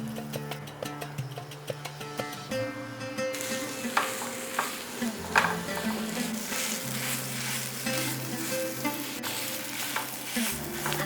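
Grated boiled potato fries in a pan, a steady bright sizzle with repeated spatula scrapes and taps, while background music plays over the cooking; no one speaks.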